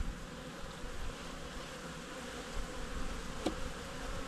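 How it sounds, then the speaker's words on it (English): A nucleus hive packed full of honeybees gives off a thick, continuous buzzing hum, close and steady, with a brief sharp knock partway through. "this nuke is completely full to the brim. They are bubbling with bees."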